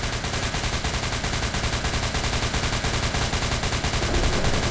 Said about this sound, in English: What are you shooting at, bro?